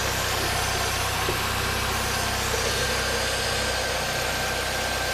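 A 2005 Chevy Cavalier's 2.2-liter Ecotec four-cylinder idles smoothly and steadily under an open hood, a close, even mechanical hum with no talking over it.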